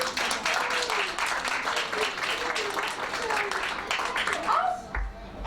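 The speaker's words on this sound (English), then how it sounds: "let's have a big round of applause." Audience applause at a magic show, dense and steady clapping running throughout with a presenter talking over it.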